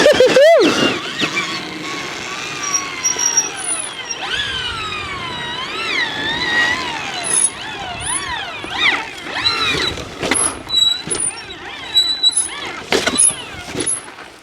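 An Electric Motion electric trials motorbike in 300 mode whines up and down through repeated revs as it rides off, a rising and falling electric motor tone, loud and close, with some brief mechanical clatter.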